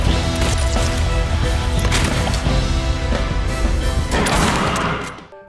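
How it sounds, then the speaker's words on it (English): Loud, dense gunfire from the Silent Hill 2 remake rattles nonstop, rapid overlapping shots cracking close by before trailing off at the end. "The gunshots lack that oomph of impact."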